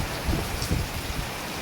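Steady rain pours down on a rural area during a thunderstorm at night, a dense continuous hiss with heavier drops pattering nearby, no thunder standing out in this short stretch.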